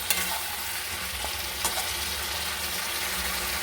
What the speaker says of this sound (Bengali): এবারে খুব ভালো করে আমি নেড়ে করে কষিয়ে নেব সুন্দর করে